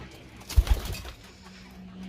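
Pigeons kept in a backyard coop give low, soft cooing, a couple of short throaty pulses close by followed by a faint, drawn-out hum, with nothing else around.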